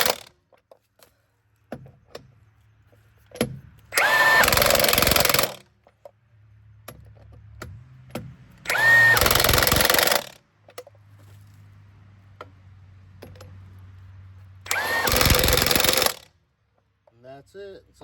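Milwaukee M18 Fuel 1-inch cordless impact wrench set to lug nut mode, driving a lug nut: three loud, close bursts of rapid hammering, each about a second long, separated by quieter mechanical handling noises and low hum.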